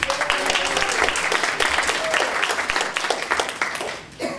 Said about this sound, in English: round of applause for CFD